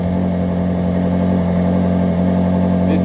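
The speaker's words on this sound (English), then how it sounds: "Engine's running beautifully." A Ferrari 458 Italia engine runs at a steady idle, a loud continuous hum with a strong low tone, heard close and alone.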